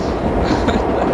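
Simulated New York subway train on the Line 7 express between Main Street and Times Square, a steady close rumble of wheels and car noise running continuously without a break.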